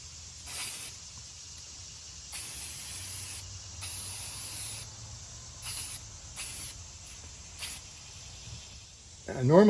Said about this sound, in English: I'm going to use 3M's general purpose spray adhesive.